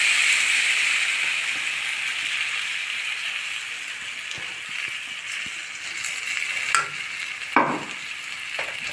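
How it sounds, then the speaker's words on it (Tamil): Beaten rice flakes with peanut powder, salt and turmeric being roasted and stirred in a pan, giving a steady close sizzle with brief scraping stirs near the end. "இப்போ நல்லா ஒரு 2-3 நிமிஷம் நல்லா வறுத்துக்கலாம்"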